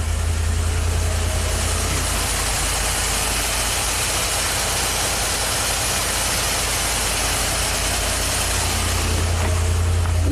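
Classic Corvette engine idling steadily at a constant pitch, loud and close, with a broad hiss over a deep low hum throughout and no talking.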